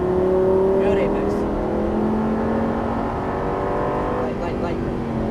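A Lamborghini Gallardo Superleggera LP570-4 drives on a race track, its engine a loud, continuous close drone that holds steady and shifts in pitch as the throttle is worked.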